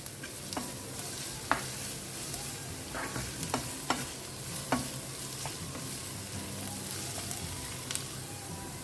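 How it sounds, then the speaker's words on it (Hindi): A stuffing mixture with ginger-garlic paste is stirred and sautéed in a pan for Goan-style stuffed squid. It sizzles steadily, and a spoon scrapes and clicks against the pan several times. "अच्छे से मिक्स करें और इसे 1 मिनट के लिए ना अच्छे से भून लेते हैं।"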